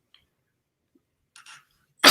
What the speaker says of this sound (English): I got the worst cough I'm trying to get rid of.